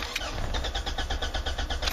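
Starter cranking a Mazda 626 2.0L engine in clear flood mode with the pedal held down: a steady, rapid rhythmic churning that runs without a break and never catches, close and fairly quiet.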